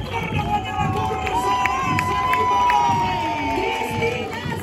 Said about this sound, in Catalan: Fort aplaudiment, públic, fort aplaudiment.